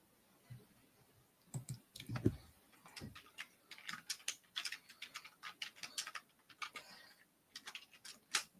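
Computer keyboard keys click in quick irregular bursts during typing, close and fairly quiet, with short pauses between runs of keystrokes and no talking.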